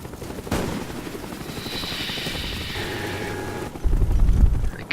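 A Cobra attack helicopter in the video game Call of Duty Black Ops gives a loud, steady rotor whir and engine drone, with a rough burst of noise near the end.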